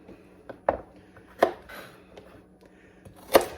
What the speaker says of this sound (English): Carrots are always the hardest to cut because they're such weird shapes.